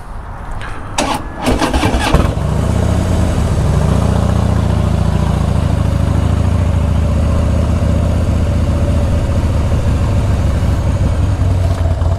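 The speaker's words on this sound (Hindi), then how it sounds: "बाइक वैसे बहुत लाउड है" A heavy 1700 cc motorcycle with a loud exhaust is started and then idles, a brief cranking burst giving way to a deep, steady rumble that stays loud and close throughout.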